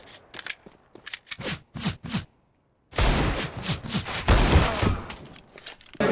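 Bursts of gunfire in the video game CS:GO, rapid shots in uneven clusters with a short silent gap, then a dense, loud stretch of continuous firing and impacts.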